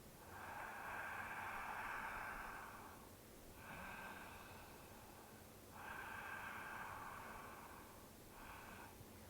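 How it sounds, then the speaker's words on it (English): Slow ujjayi breaths during a gentle yoga class, each long breathy hiss drawn through a narrowed throat, four breaths in a steady rhythm, close and quiet with no talking. "A good time to start the Ujjayi breathing."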